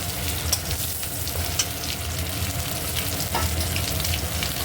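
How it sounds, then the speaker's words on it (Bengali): Steamed new potatoes fry in a pan in a steady, loud, close sizzle, with light stirring scrapes now and then and no voices. "আমি আলুটা ভাজছি"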